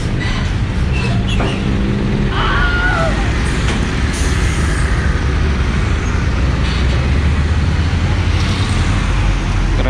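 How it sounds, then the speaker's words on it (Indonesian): A train passes over a level crossing beside truck traffic, a steady loud rumble with brief squealing tones, heard close amid roadway noise. "Keretanya melintas."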